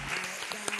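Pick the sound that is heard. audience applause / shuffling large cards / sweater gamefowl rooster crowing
audience applause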